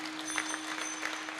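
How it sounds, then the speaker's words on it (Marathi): An audience at a kirtan claps in a faint, even patter, with a steady hum running underneath. "जोड नंदुबासाठी एकदा टाळ्या वाजा महाराज."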